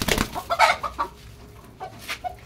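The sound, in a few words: chicken clucking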